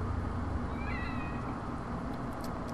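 A cat in The Evil Within gives one short, rising meow in the middle, heard over a steady background hum of game ambience.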